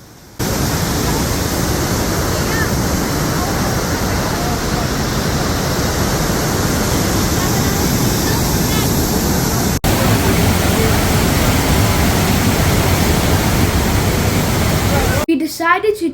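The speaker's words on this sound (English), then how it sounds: "To feel the roar and vibration of the water, we decided to go down the lift and stand up close to the waterfall" Steady, dense roar of the Rhine Falls heard from close beside the plunging water, a loud unbroken rush that fills the whole span with no let-up.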